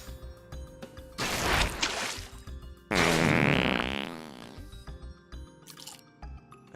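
Loud, close fart sounds in two long blasts, the second louder and wetter-sounding, with quieter bits between them.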